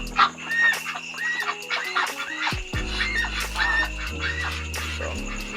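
Chickens cluck and a rooster calls near and loud, with repeated clucks and a crow in a backyard flock that includes a Rhode Island Dark Mahogany rooster and a Brahma breeder hen, joined by low farmyard hum.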